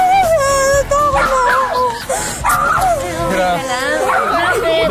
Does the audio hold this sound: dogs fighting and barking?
yes